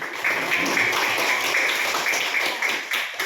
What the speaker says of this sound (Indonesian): Ya, tepuk tangannya untuk semuanya.